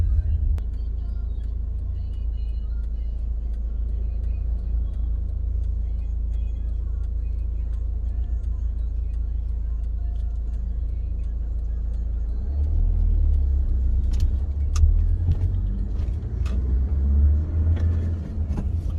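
A 2012 Honda Accord with a 2.2 i-DTEC diesel engine drives along with a steady low cabin rumble, then builds in engine note as it accelerates, with clicks and knocks near the end.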